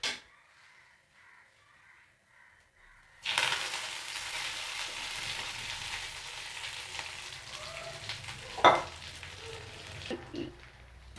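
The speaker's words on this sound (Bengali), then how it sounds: "তেলটা গরম হয়ে গেছে, আমি এবার নিম পাতা দিয়ে দেব।" Neem leaves hit hot white oil in a pan over a low gas flame and burst into a loud, steady sizzle after a quiet start, with a brief clatter partway through.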